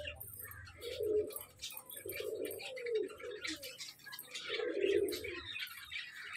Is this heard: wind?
no